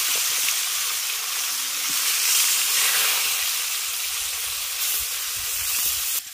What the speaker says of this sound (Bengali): তেল গরম হয়ে গেছে, এরপরে আমি মাছগুলোকে ভেজে নেব।